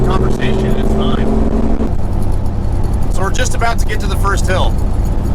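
A Jeep TJ engine fitted with a THOR cold air intake drones steadily while driving, a low continuous rumble throughout, with people talking over it partway through.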